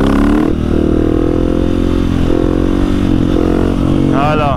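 A KTM 701 motorcycle in second gear at about 30 km/h revs hard for a wheelie. The engine roars loud and close, holding a steady pitch that rises and wavers toward the end.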